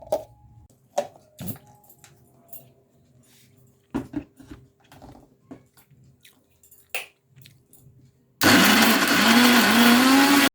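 Electric mixer grinder blending a fried spice paste, a loud steady whirring motor that starts suddenly after several seconds of quiet kitchen clinks and taps and runs to the end.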